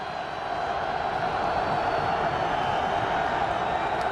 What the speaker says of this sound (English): Crowd trying to get back in it